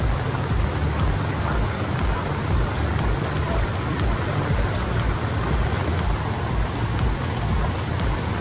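Heavy, steady rain pours down during historic flooding in Beijing, northern China, from the remnants of Typhoon Doksuri, a dense, continuous hiss of downpour drumming on surfaces with a faint low rumble, unbroken throughout.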